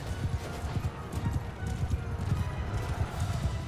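Horses gallop in the medieval combat game Mount & Blade II Bannerlord, a steady run of close, rhythmic hoof clip-clops with a faint whinny, and no talk over them.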